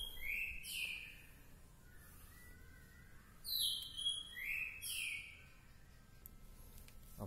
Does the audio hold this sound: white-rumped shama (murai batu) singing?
yes